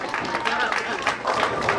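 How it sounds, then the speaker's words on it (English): Applause from family and friends at a youth bowling tournament, brief scattered clapping and crowd noise close by, with a commentator talking over it. "with family and friends looking on, you hear their applause"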